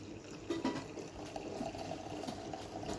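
Brewed coffee is poured slowly off settled grounds, giving a faint, steady trickle and splash of liquid that stays quiet throughout with no talking.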